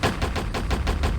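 Rapid automatic gunfire from the video game POSTAL rattles off in a fast, even burst of about seven close, loud shots.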